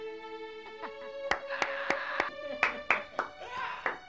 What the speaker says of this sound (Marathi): टाळ्या कसल्या पिटतोस रे?